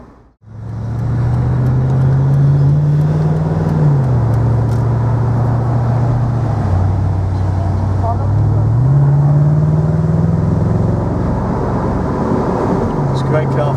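A low-mileage 2003 Mercedes SL55 AMG drives along a road at a normal pace, its engine a loud, steady hum that rises and falls with gear changes over about fourteen seconds, without anyone talking.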